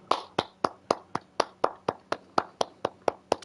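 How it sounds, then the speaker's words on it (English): Rhythmic hand clapping at a dirt track Super Late Model race, about fourteen evenly spaced sharp claps from one or a few people nearby rather than a large crowd, with no talk over them. "can we get a round of applause for a B main without any flags?"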